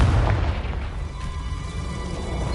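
Confringo explosion spell in the PS5 game Hogwarts Legacy: a muffled, low rumbling boom that hits at once and fades slowly over a couple of seconds, heard alone without talk.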